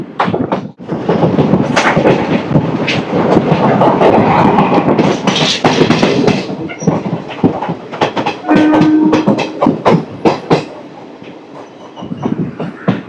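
Train 17210 from Kakinada Town to SMVT Bengaluru runs loud and close, with a steady rumbling roar, rattling carriage noise and bursts of wheel clatter all the way through, plus a brief squeal partway along.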